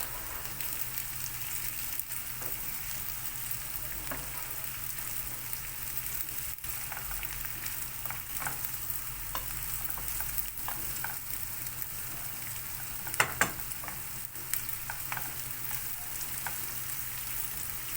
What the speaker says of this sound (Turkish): Önce sıvı yağla kavuruyoruz pirinci.